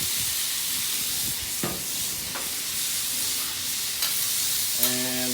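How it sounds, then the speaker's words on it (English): Seasoned corn, white or yellow, stirred in a hot frying pan to char and brown, a steady loud sizzle with occasional scraping strokes, and a brief word spoken at the very end. "gonna stir this in really good. Get a nice char brown on the corn is the idea"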